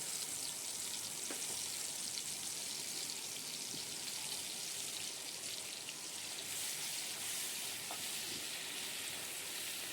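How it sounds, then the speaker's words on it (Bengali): Ground spice paste with kalonji seeds fries in hot oil with a soft, even sizzle and light crackle, a few faint clinks sounding now and then, steady and fairly close. "আগে একটু ভেজে মশলাটাকে একটু কষিয়ে নিচ্ছি"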